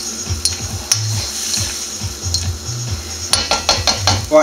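Seafood pasta sauce being stirred in a cooking pan, with repeated close scraping and clinking strokes of a utensil against the pan over a soft background sizzle.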